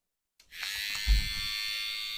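A Babyliss X Tomb 45 cordless hair trimmer switches on and runs with a steady, close, high-pitched electric buzz, a brief louder thump near the start, then a constant whir.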